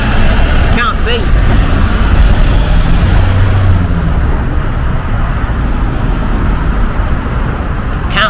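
Steady, loud roadway rumble from a Lodge Tyre truck and a bin wagon passing on the road, with dense traffic noise, brief higher squeals, and voices heard over it.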